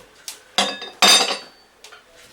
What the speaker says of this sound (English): I'm just going to put them into my pestle and mortar, leave that to cool down.